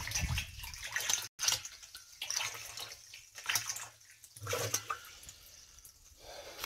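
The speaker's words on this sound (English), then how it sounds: "got the water transferring" Rainwater trickling slowly from a rain barrel through to a rabbit hutch outdoors, a soft uneven running and dripping flow with faint splashes, steady and fairly quiet throughout.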